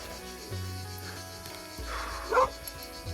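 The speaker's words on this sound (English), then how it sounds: "I hope those dogs are safely secured in there." Dogs barking somewhere along a hiking trail on Corfu, a few brief yips and barks rising over steady outdoor background noise and a low hum.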